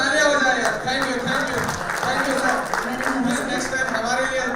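An audience at an event in Bangalore's Leela Palace claps in a steady, dense wash of applause, close and sustained, with voices mixed in.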